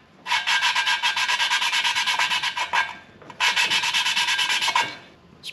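An M54 engine valve on a BMW cylinder head is spun back and forth with a suction cup, making a steady gritty rasping scrape in two long bursts with a short pause between, close and loud with no talking.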